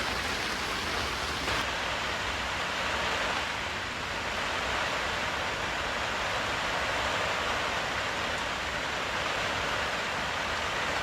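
Heavy rain pours steadily in a rainforest at a camping spot in India, a dense, loud, unbroken hiss that continues unchanged throughout with no pauses.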